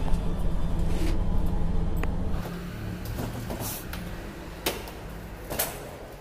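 A car engine rumbles close by as the car pulls out on a street, the motor sound fading after a couple of seconds, followed by a few sharp knocks or bumps.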